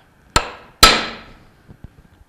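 A hammer taps a bearing into place in a Bell & Gossett Series 1510 bearing assembly: two sharp metallic strikes, the second ringing out with a bright ding that fades, followed by a few faint light taps.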